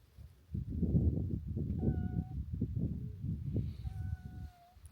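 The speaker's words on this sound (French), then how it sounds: "J'ai le chat qui vient." A cat meows a few times at a nomadic camp that welcomes tourists, the short calls rising over constant low rumbling background noise and voices.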